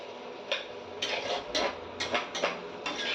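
A lid comes off a pot of bottle gourd and prawns cooking on the stove: a run of light metallic clinks and taps, about half a dozen short, close knocks spread unevenly over a few seconds, with no talking.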